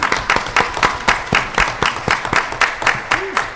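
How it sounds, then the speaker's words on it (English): Applause for a panel at a conference forum, a moderate-sized audience clapping in a close, fairly even patter with a few louder hits, with no voices. "let's give a very good round of applause for our wonderful panel"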